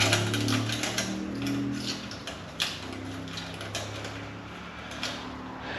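Ratchet wrench clicking as it tightens a 10 mm bolt on a 2022 Honda CB650R exhaust, a close run of quick mechanical ticks with a few louder knocks, fairly quiet and without speech.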